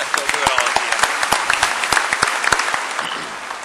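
An audience at a Dakota State University commencement ceremony applauds. The dense, sustained clapping fills the hall, with sharp individual claps standing out and a voice heard over it.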